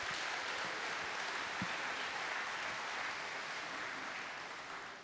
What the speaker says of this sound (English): go ahead and give them a round as well.